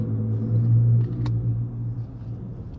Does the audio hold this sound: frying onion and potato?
no